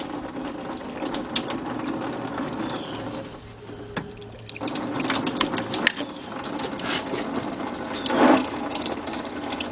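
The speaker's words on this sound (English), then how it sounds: "Alright, let's let that drain out." Rusty coolant drains from a disconnected hose on a 2002 Dodge Stratus 2.4 during a timing belt and water pump job, a steady trickling pour with mechanical clicks and rattles close by, and a brief louder burst near the end.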